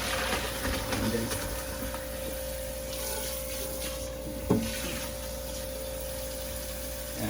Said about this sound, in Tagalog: hugasan na natin yung atay natin